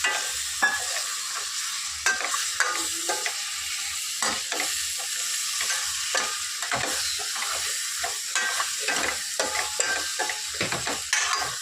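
Brinjal curry fries steadily in a pan while a spoon stirs through it in repeated scrapes and clacks, a continuous close sizzle running under the stirring with no one talking.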